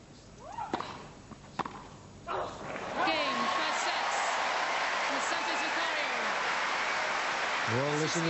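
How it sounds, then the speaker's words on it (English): A large crowd at a women's tennis final, Graf against Sanchez Vicario in 1995, breaks into loud, sustained applause and cheering after a few sharp ball strikes and quiet murmur, with a commentator talking over it. "Well, listen to the crowd."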